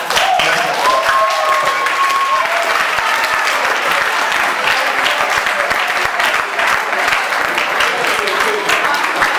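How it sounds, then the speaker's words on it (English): Audience applause for a guest speaker at an academic-industry event of an animal nutrition department, a dense, steady clapping that fills the whole stretch with no break. "another round of applause for our guest speaker"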